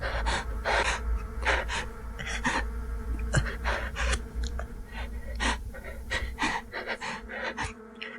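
Heavy, ragged breathing of a frightened man who has just stepped back from a window, with rapid gasps and pants repeating steadily and close by, with no talk.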